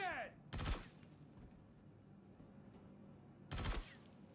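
Two loud, sharp rail cannon blasts in the Star Citizen video game, each a short explosive burst with a booming low end, spaced about three seconds apart over a faint background hum.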